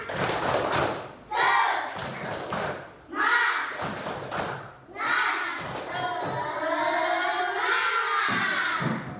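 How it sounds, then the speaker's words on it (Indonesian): A class does the "tepuk semangat" spirit clapping routine, with bursts of group claps and thumps alternating with children's chanting voices and shouting, rhythmic and fairly loud in a classroom. "kita tepuk semangat dulu. Ayo, tepuk semangat."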